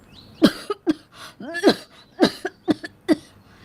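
A woman coughs in a string of sharp, harsh bursts, several close together, loud and near with brief pauses between.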